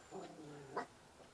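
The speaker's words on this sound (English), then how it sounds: "I don't know what you barking at" A dog gives a low, faint, growly bark and a short yelp-like sound, heard somewhat distant with a soft tail-off afterward, no speech.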